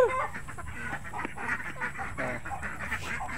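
Ducks quack repeatedly at feeding time as the keeper calls them in, a busy, close flock chattering over steady outdoor background noise, with bird voices overlapping throughout.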